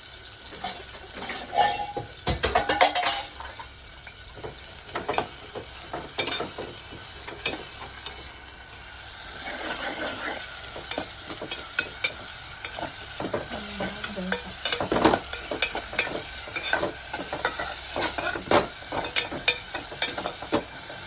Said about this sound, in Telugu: ఉల్లిపాయలు వేసాము.